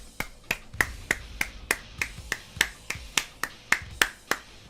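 Sharp hand claps mimicking another person's clapping style, about a dozen crisp, close, evenly spaced strikes roughly every third of a second, with no talk between them.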